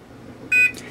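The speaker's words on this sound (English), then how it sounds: "You hear that beep, that's the hold feature." A single short electronic beep from a small postal scale's hold feature, clear and steady, sounds once against a quiet background.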